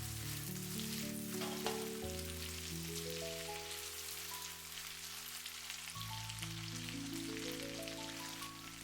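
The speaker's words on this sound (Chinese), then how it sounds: "大火翻炒2分钟左右，使茄子充分吸收五花肉里面的油脂。" Eggplant and pork belly sizzle steadily in a wok over high heat, a continuous close frying hiss under a sustained background melody of shifting tones.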